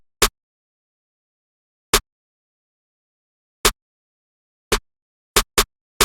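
An 88 snare layered with a clap hits as sharp, isolated, bright cracks, six strikes with long gaps at first and then quicker ones near the end, played alone in a trap beat.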